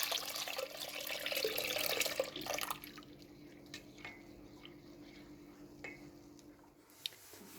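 Cold milk is poured into a boiled syrup with a few drops of lemon for cold baklava, a splashing liquid stream for about two seconds, then a few scattered drips and small clinks, close and fairly quiet.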